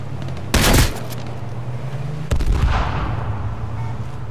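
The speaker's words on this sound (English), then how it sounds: "Shots" Gunshots in H1Z1 on PS4: two sharp, loud reports about two seconds apart, the second trailing into a rumbling echo against a low steady hum.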